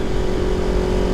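A Kawasaki Ninja 400 motorcycle engine under hard acceleration, a loud steady high-pitched drone held close to the listener, with no talking.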